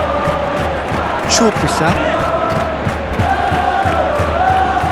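A simulated football stadium crowd in a Villarreal versus Liverpool Champions League semifinal cheers and murmurs steadily at moderate volume, with a commentator talking over it throughout.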